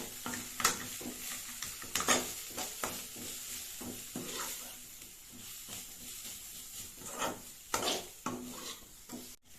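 Egg cutlet filling being stirred with chicken masala in a pan, with a steady soft sizzle under repeated scraping and clinking strokes of a spoon against the pan, close and moderately quiet.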